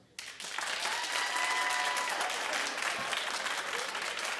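A studio audience at a daytime talk show claps in a sustained, loud burst of applause that swells quickly and holds steady to the end.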